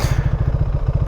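KTM 390 Adventure single-cylinder engine running close by, a rapid low thumping pulse with mechanical clatter, steady and fairly loud, with no talk.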